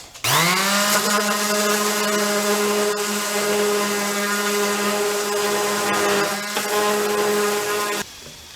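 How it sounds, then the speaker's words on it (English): A power sander runs steadily against scrap wood, starting abruptly, holding a loud, even whine for about eight seconds, then cutting off. "show you how quick it is to sand down to a good surface"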